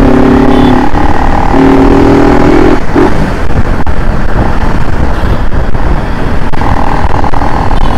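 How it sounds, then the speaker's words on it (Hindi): A CVR motorcycle ridden along a road, steady engine drone under heavy wind rush close to the rider, with a brief rise in engine pitch; loud throughout. "आज आराम आराम से चला रहे हैं अपनी CVR"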